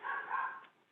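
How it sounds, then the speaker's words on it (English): Couple of dogs barking in the background at home, a short muffled yelp or bark that sounds distant and thin, with no one talking over it. "I got a couple of dogs in the background"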